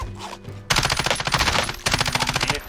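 Video game gunfire from an online shooter, rapid automatic bursts in two close, loud volleys separated by a short pause.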